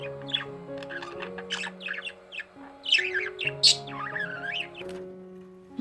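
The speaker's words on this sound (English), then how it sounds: "Budgies will chirp when they heard music." Budgies chirp and warble over soft background music with sustained tones, producing rapid bursts of bright tweets, squawks and trilling song, close and lively throughout.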